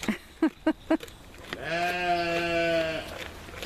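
A goat bleats once in a long, wavering call, close and loud, following a few short sharp knocks; no talking is heard alongside it.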